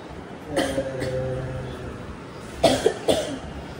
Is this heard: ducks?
no